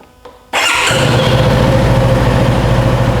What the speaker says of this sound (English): now I like to start the bike and let it run for about 15 seconds